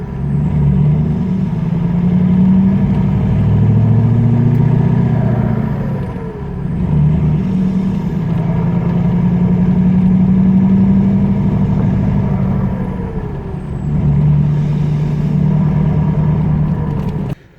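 Diesel pickup truck engine with a locked torque converter pulls at low RPM under throttle, eases off, then shifts gear; a loud, steady rumbling drone that dips briefly around each let-off before picking back up.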